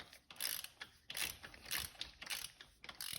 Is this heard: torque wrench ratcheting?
yes